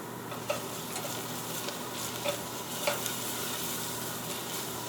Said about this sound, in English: now I have the garlic that I crushed from earlier. I'm just going to add that to it. Turn the heat up a little bit